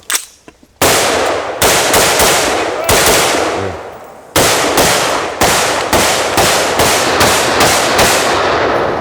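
AR-15 rifle firing about nine loud, sharp shots in a quick, slightly uneven string at close range on an outdoor shooting line, each crack followed by a brief ringing decay, with no talk over the shots.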